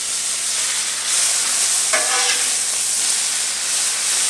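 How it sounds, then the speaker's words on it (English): Bacon frying on a Blackstone griddle at a lakeside campground, a steady close hiss and crackle that carries on without pause, with a brief flurry of sharper pops near the middle. "I'm gonna put a little bit of bacon on"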